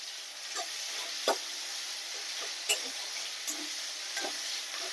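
Tomatoes with a pinch of salt sizzle steadily in a pan for hilsa fish dishes, with a few sharp scrapes of a spatula stirring them at irregular moments over the continuous frying hiss.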